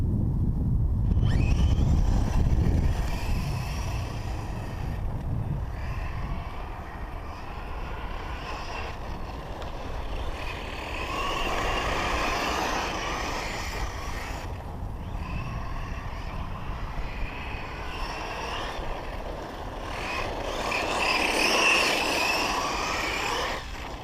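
HPI Vorza S Flux electric RC truggy driving and jumping outdoors, its motor whine rising and falling at a distance under persistent wind rumble on the microphone.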